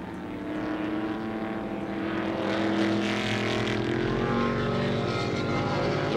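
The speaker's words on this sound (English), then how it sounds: "Jane working fairly hard behind the wheel to keep the big red Camaro pointed where he wants it" A big red Chevrolet Camaro touring car races at the 1971 Australian Grand Prix Touring Car Challenge, its engine a rough, droning roar that swells as it passes, heard from a distance with no talk.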